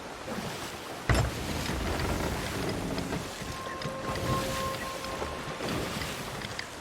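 A sailing ship in the video game Sea of Thieves moving into the wind, with steady broadband wash of water and wind noise throughout, a sharp knock near the start and faint tonal creaks over the continuous rush.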